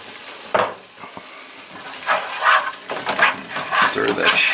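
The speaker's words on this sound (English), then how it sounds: "Stir that shit." Lecso sizzles in a pan while being stirred, with uneven bursts of scraping and bubbling and a sharp clack near the start; a voice talks faintly at moments.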